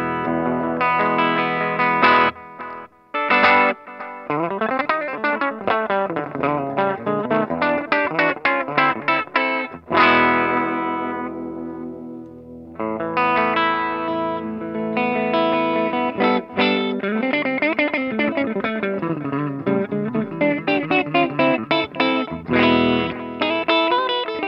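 Electric guitar played through a Kustom Defender 5H amp with an echo delay pedal, a clean tone of strummed chords and picked notes repeating in trailing echoes, loud and continuous with short pauses.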